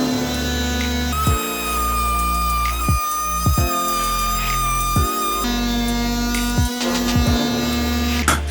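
An oscillating multi-tool fitted with a resharpened blade buzzes in a loud, harmonic whine, its pitch dropping sharply several times as the blade bites into the cut and then recovering, with no talking.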